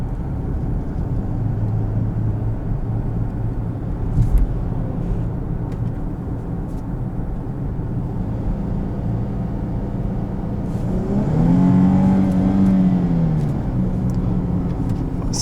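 A 2018 Chrysler 300 Limited engine holds high revs in a low gear, a steady droning hum with a rising and falling pitch sweep near the end, close and continuous with no voices.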